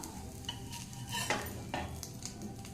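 Ridge gourd bread egg toast frying in an oiled pan, with a gentle sizzle and soft scraping and clinking of a spatula as it is turned, close by and without voices.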